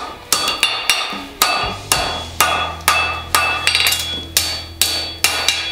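Steady hammer blows ring out on an anvil as a forged horseshoe is shaped around the horn, a dozen or so sharp metallic strikes at a fairly even rhythm, loud and close with no talking.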